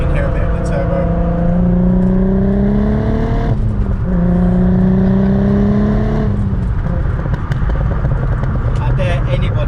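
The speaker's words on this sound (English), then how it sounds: "let you listen to that V6 noise. Hopefully you can hear a bit of the turbo" Turbocharged V6 car engine revs up twice in long rising pulls, each dropping back before building again, loud and close, then settling into a rougher steady drone.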